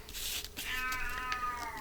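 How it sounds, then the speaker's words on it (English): A male cat lets out a loud, drawn-out yowl that rises into a sustained wailing tone, close by and uninterrupted by any voices. "He's yowling loud."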